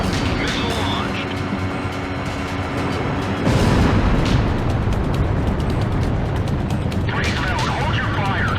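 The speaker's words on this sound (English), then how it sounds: "Missile launched." A missile launch and explosions roar in the Ace Combat Zero flight combat game. Heavy, continuous rumbling and booms fill the whole stretch, with a louder burst midway, while voices talk over the noise.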